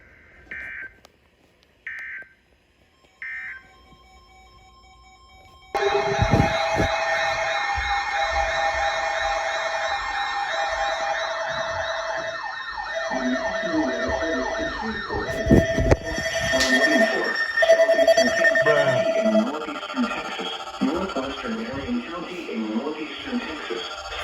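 An emergency weather radio alert plays: three short header bursts, then a loud steady single 1050 hertz attention tone, which gives way to a broadcast voice reading a warning for counties in northeastern Texas.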